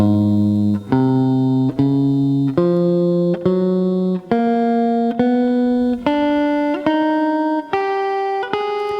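Guitar finger drill played across the strings with the first and second fingers, each note plucked clearly in a steady even rhythm, the pitch stepping gradually upward, played close and loud with no talking.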